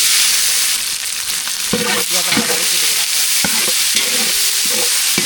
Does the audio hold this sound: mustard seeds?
yes